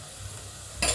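Finely chopped onion stir-frying for misal with garlic, curry leaves, asafoetida and turmeric, a close, even sizzle that swells suddenly near the end as the pan is stirred.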